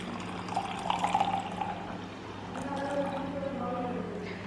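Warm milk poured onto yeast and sugar in a bowl, a soft steady liquid trickle and splash running for a few seconds under faint background hum.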